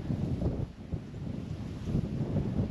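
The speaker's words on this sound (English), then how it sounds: "But the wind is relentless" Strong wind buffets the microphone in a small lake bay, a continuous low, rough roar with gusty swells, close and loud and without speech.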